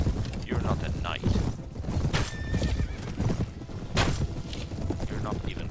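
Horses in the medieval combat game Mount & Blade neigh and whinny over rapid clip-clopping hooves, with whinnies rising repeatedly amid the clatter of battle, loud and close.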